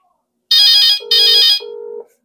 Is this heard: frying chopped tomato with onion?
no